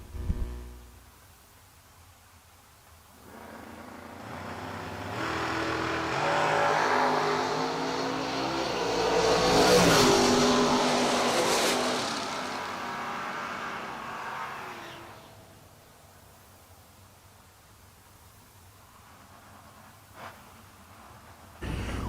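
Drag racing cars run down a racetrack at a Six Shooter Showdown event, one engine roar swelling from a distance to a loud peak and fading away over about ten seconds, with quieter crowd ambience before and after.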